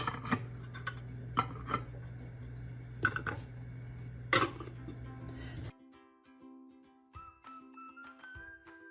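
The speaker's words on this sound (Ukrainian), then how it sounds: "Ставимо банки в каструлю." Glass jars are set one by one into a pot lined with a towel on the bottom, giving several faint clinks and knocks close by, then a quieter stretch with light tones and small taps.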